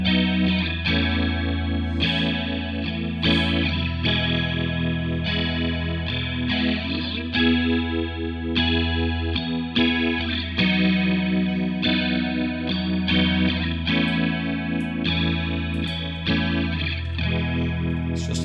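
An electric guitar runs through an emulation of a Boss chorus effect, giving shimmering, slightly detuned strummed chords that ring on continuously for the whole stretch, with no voice over them.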